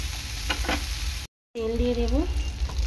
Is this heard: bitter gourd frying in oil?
yes